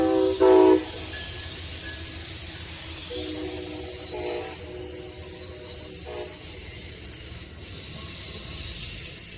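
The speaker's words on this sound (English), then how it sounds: "the only other train I saw that morning was AmTrak 41." Amtrak 41 passenger train passing through Maryland, with a few short horn blasts near the start and again midway over a steady rumble of wheels and rail noise.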